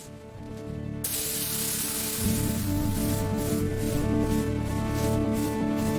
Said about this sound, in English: On the cleaned, repaired areas, we apply a light anti-rust primer